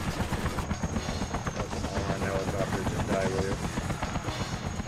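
Helicopter in the Disney's Bolt video game, a steady, dense whirring clatter of rotor thump running continuously at moderate loudness, with faint game sounds layered over it.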